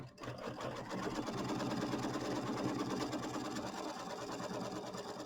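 Embroidery machine stitching the tack-down line on a fabric mini quilt, a rapid, steady mechanical chatter running continuously at close range, fairly quiet, with no talk.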